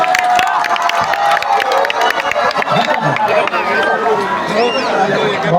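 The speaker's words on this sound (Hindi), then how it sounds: "एक बार जोरदार तालियां नफीस अहमद साहब के लिए बजाइए।" A crowd at a comedy gathering claps loudly and cheers for Nafees Ahmad, dense applause mixed with shouts and voices throughout, close and energetic.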